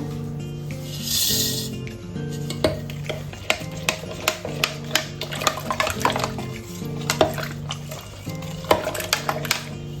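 Yeast mixture for torta fritas dough being stirred in a bowl, with repeated scraping, clinking strokes close up in a steady, uneven rhythm.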